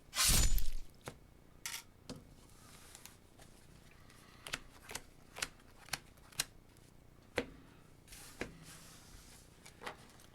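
Keyforge playing cards being shuffled and handled during a sealed match, with a loud riffle burst at the start followed by a string of crisp, separate card snaps and taps, close up and with no talk.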